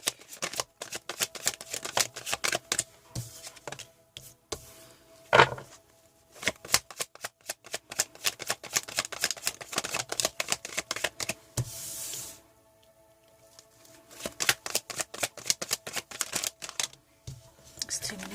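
Tarot cards shuffle in long riffling bursts, dense rapid clicks and flutters close up, broken by brief pauses across the stretch.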